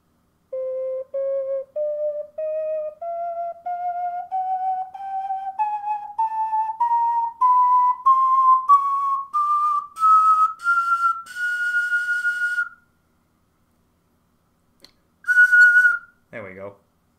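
A handmade 10-hole ocarina plays a slow rising scale of clear, pure whistle-like notes, one after another, followed by a short high note and a quick downward slide, alone and close.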